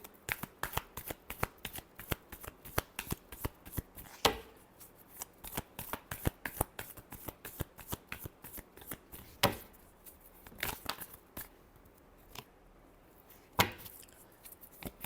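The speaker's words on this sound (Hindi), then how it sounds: "Last shuffle." Tarot cards are shuffled by hand close up in a long series of quick riffling snaps and flutters, with a few sharper slaps and brief pauses between shuffles, no talking.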